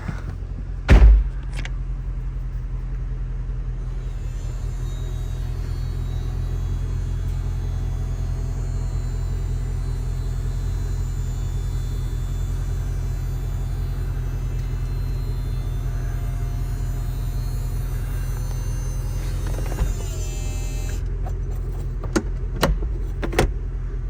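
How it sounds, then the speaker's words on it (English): A 2012 Chevrolet Camaro SLP ZL560 convertible's power soft top rising in one steady electric motor whir over a low engine rumble, with a thump and latch clicks at the start and the end. "I'm gonna put that top back up for you."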